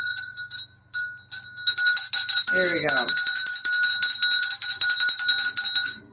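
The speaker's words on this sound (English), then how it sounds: "I'm gonna get my bell here. I'm gonna ring it." A hand bell rung during a tarot reading, sustained bright metallic ringing with overlapping strikes that carries on for several seconds, loud and close, with a voice speaking over the start.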